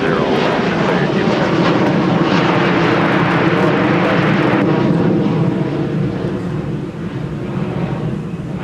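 Airliner taking off from a Minneapolis airport runway, a loud, sustained broadband jet engine roar with wind buffeting, steady and then easing slightly as it climbs away.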